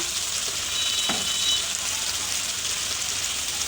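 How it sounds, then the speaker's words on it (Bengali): Spices sizzling in hot oil in a pan while fish curry cooks, a steady close hiss with a brief scrape of stirring partway through. "দিয়ে কিন্তু মশলাটা খুব ভালো করে কষিয়ে নেব"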